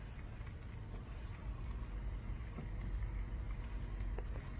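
A car creeping along at about five miles an hour near a cemetery, its engine a low, quiet, steady hum with soft tyre and road noise, no voices.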